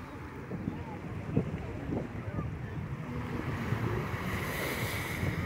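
Sea waves and wind along Coroa Vermelha beach in Bahia, near Porto Seguro, a steady broad wash of surf with gusty wind noise on the microphone and occasional stronger swells, continuous and fairly close.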